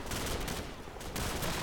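Rapid automatic gunfire from a machine gun in Call of Duty 4: Modern Warfare, dense and continuous across the whole stretch with only a brief dip in the middle, loud and close.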